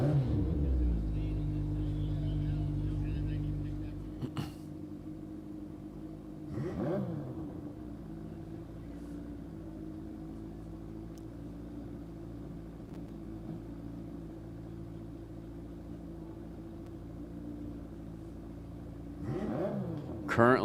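A stretched 1971 Datsun 1200 Coupe fitted with a 2008 Suzuki four-cylinder races on a dry lake bed, its engine a loud droning hum at first, then receding into a distant steady tone, with brief passes and rising whines of other vehicles.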